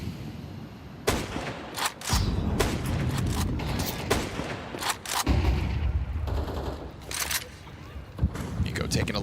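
Five-SeveN pistol fire in a Counter-Strike 2 esports match at the Budapest Major: sharp, irregular shots ring out in quick bursts over lively continuous commentary.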